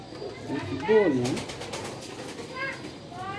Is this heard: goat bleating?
no